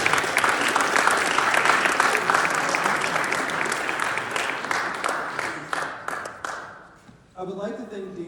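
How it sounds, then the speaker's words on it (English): An audience applauds steadily for about seven seconds at an inclusion talk, the clapping thinning and fading out near the end as a voice begins speaking. "Give yourselves another round of applause."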